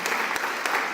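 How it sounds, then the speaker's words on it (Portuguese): A church congregation applauds, a short burst of steady, dense clapping in a room, fairly close and alone without voices. "pode aplaudir a palavra do Senhor"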